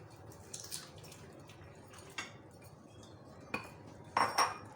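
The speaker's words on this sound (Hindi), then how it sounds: "दाल जो हमने सोख करके रखी है वो डाल दें" A few clattering pours and clinks of soaked lentils dropped into a metal pressure cooker, with light splashy scrapes in a quiet room.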